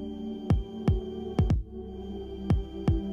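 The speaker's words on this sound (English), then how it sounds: "Or you can even share something as personal as your own heartbeat." A heartbeat shared through an Apple Watch (1st generation): deep, soft thumps come in paired lub-dub beats, about six strikes in three seconds, over a steady low hum.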